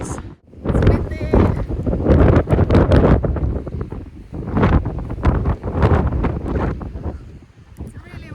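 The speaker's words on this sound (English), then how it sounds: "It's really windy." Gusty wind sweeps across the shore of Blue Lake outside Loutraki, loud rushing bursts battering the microphone in uneven waves.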